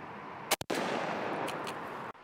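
A Winchester SXP shotgun fitted with a Kicks choke fires one Verdict turkey load, a single loud, sharp blast followed by a long, steady wash of outdoor noise.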